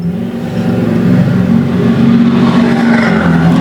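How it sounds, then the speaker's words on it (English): A loud car engine rumbles and revs as it drives by nearby, a low droning roar that swells and holds. "Loud-ass car driving by."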